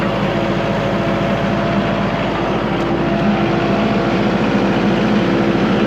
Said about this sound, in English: nobody in the seat and the tractor's in gear and it's still running